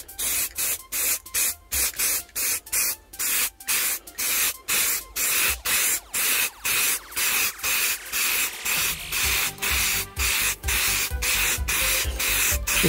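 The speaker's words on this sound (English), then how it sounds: "all I'm using at the moment is this, which is just some basic high coat plastic primer" An aerosol can of basic plastic primer sprays in short repeated bursts, roughly one every half second, loud and close, with brief gaps between each hiss and no one talking.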